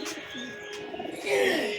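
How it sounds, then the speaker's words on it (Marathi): Pigeons coo softly nearby, a few low throaty calls overlapping, with faint chirps in the background. "हे बघा इथं किती कबूतर आहे बघा"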